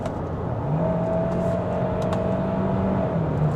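A 2025 Kia Sorento, with a six-speed automatic gearbox, accelerates in sport driving mode, heard from inside the cabin. A steady engine hum rises in pitch over road and wind noise.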